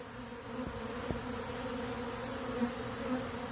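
A small swarm of honey bees buzzes steadily around a swarm box fitted with old comb, a close continuous hum with a couple of faint taps and no talking.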